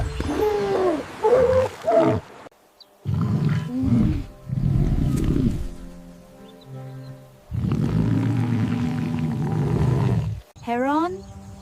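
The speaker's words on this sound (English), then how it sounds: "Sea lion." A sea lion gives a run of loud, close, gravelly barks and roaring grunts in several bursts, ending with a rising wavering call.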